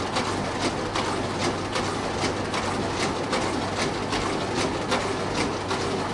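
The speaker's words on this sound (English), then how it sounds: "I have to wait till it stops printing." A Toshiba copier prints pages with a steady, loud mechanical whir and rapid rhythmic clacking of the feed mechanism, running continuously without pause and with no talking.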